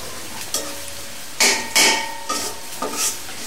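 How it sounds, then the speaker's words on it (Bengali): Bay leaves, cinnamon, cardamom and garam masala stirred in a pot for Bangladeshi potato dal, with a faint steady sizzle under several close, sharp scrapes and clinks of a spoon against the pot. "একটু নাড়াচাড়া করতে হবে, একটু গন্ধটা আসুক।"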